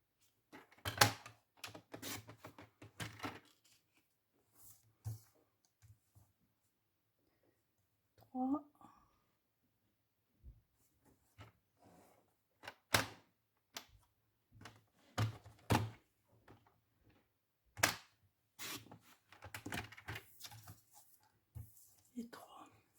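Scissors or a paper cutter slicing small squares of paper, producing repeated crisp snips and thunks spread across the span, with someone speaking French quietly between cuts.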